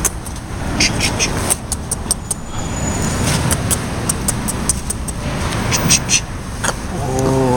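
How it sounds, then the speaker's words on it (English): A truck rolls past on a nearby road with a steady, broad traffic rumble that swells and fades across the whole stretch, while a person talks intermittently over it. "Look at the truck."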